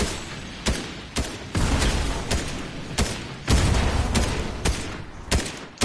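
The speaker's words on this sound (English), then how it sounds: "Well, who is shooting?" Rapid bursts of Fortnite gunfire crack out over several seconds, loud and close with sharp repeated shots in uneven rhythm over a dense background of battle noise.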